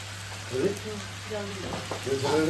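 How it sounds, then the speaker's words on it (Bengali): Rooster meat sizzling as it is sautéed in a pan for a thin curry, a steady frying hiss with light stirring scrapes and a few faint voices in the background. "আমাদের মাংস কষানো হয়ে গেছে"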